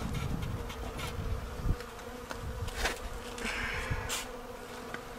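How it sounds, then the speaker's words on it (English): Steady buzzing of many honey bees close by in a Colorado hive, a dense droning hum with occasional louder passes of individual insects. "alive bees crawling around in here"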